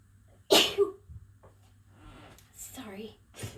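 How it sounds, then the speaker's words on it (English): One loud, sudden human sneeze close to the microphone, followed by quieter breathing and a few murmured sounds in a quiet room. "I'm going to sneeze."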